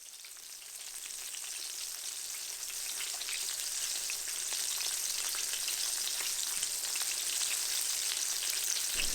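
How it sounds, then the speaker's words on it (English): Breadcrumbs dropped into hot frying oil sizzle and crackle steadily, growing slightly louder, with no voices. "we are going to test the heat by dropping in a few breadcrumbs"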